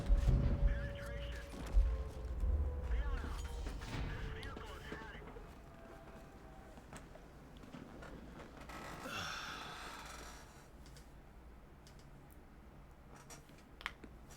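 Heavy gunfire in the World of Tanks game: a boomy blast with rumbling low end early, then a quieter stretch of game noise and small clicks while someone talks over it.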